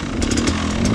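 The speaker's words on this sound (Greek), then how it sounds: "Τώρα δεις πως σε κουφαίνει αυτή η εξάτμιση τώρα, κοίτα να δεις." Beta 480 enduro motorcycle revving up close, with a loud, continuous exhaust roar and rasping engine note, plus a few brief sharper bursts as the throttle blips.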